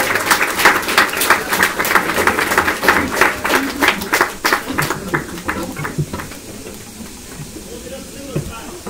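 Audience applause for art buyers at a creations showcase, loud rapid clapping for about five seconds that thins out and fades into quieter room noise.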